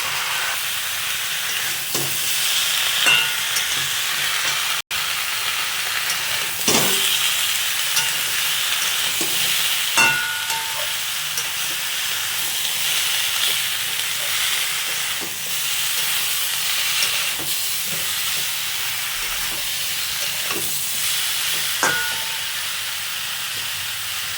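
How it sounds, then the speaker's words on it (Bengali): Boiled green jackfruit, drumsticks and potato being stir-fried in spices in a pan, a continuous sizzle and hiss with intermittent scrapes and clatters of a spoon stirring. "এবার সিদ্ধ করে রাখা এঁচড়গুলো দিয়ে দেবো, আর ডাঁটা আর আলুটা দিয়ে দেবো। সবগুলো আরেকবার ভালো করে কষিয়ে নেবো।"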